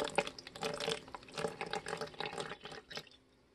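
Water poured from a container into a pound of sugar to make bee fondant, a steady splashing trickle running close by for a few seconds and tapering off near the end.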